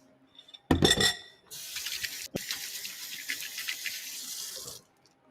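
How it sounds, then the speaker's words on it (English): Hands washed under a running kitchen tap during home cooking: a brief clatter, then a steady hiss of water splashing into the sink for about three seconds before it shuts off. "I'll wash my hands."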